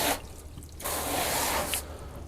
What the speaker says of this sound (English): So now my hose is really dripping